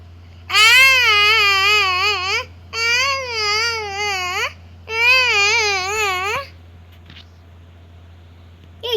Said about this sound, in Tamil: ஏதோ ஒரு குழந்தை அழுவுற மாதிரி தான் சத்தம்.